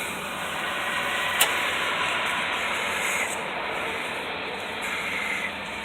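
Steam rushes through 150 feet of 3/4-inch copper tubing coiled in a steamer's firebox, a steady, loud, close hiss that holds unbroken from start to finish.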